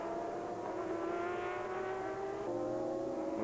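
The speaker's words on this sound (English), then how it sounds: "Motoyama, as these guys slow each other down, racing wheel to wheel." GT race cars from Japanese GT 2002 battle wheel to wheel, several engines roaring and revving together at high pitch, close and loud with a gear change midway, no voices.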